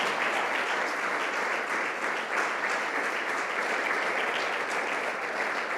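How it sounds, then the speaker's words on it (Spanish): A church congregation applauds in worship, a loud, sustained and even roar of many hands clapping that never lets up from start to finish. "Dale ese aplauso al Señor."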